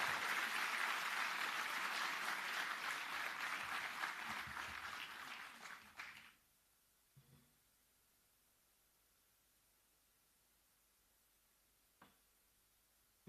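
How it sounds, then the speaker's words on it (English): A large gathering applauds at a conference inauguration for a finance minister, dense clapping for about six seconds before cutting off abruptly, leaving near silence broken by a couple of faint knocks. "to address the gathering with a huge round of applause"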